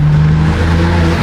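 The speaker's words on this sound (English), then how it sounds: "The intake noise, it's so fun, bro." A BMW G80 M3 with a manual gearbox sends out a loud, close intake drone that holds steady and then drops in pitch as the revs change, with no talk.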